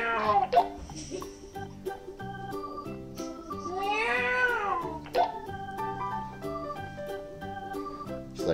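A five-year-old child imitates a cat over a walkie-talkie, giving several drawn-out, wavering meows and caterwauls with a slightly tinny radio quality, close and fairly loud, with brief bursts of other voices around them.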